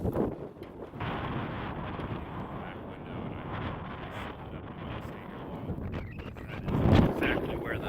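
Cold wind buffets the microphone beside a camper in a storm, a steady roaring rush with gusts that swell near the end, while a person talks underneath.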